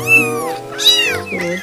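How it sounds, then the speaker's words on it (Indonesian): A cat meows twice close up, a long rising-and-falling meow followed by a second one, loud and clear with no talk over it. "Lihat, kita mendapatkan seekor kucing."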